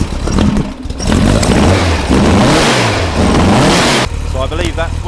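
A rebuilt racecar engine fires up and revs hard, loud and close, its pitch sweeping up and down through several throttle blips before cutting off abruptly near the end, leaving a lower idling rumble.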